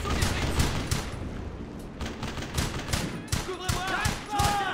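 Bursts of rapid gunfire from a World War II shooter video game sound in quick volleys at moderate loudness, while a player talks over the shooting.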